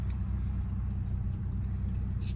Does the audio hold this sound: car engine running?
yes